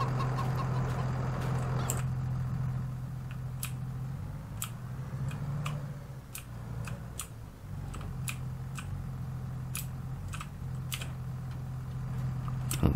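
Chickens clucking in Farming Simulator 22 on the Calm Lands map, a steady low hum with scattered soft clucks and ticking clicks throughout, no talk.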